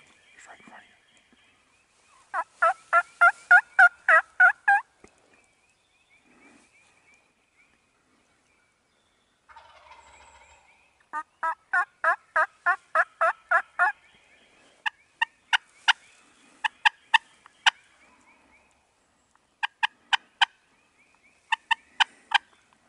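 Wild turkeys call during a youth turkey hunt, with two long rapid strings of loud pulsed notes separated by quiet. Sharp, spaced single calls follow, and there is faint whispering nearby.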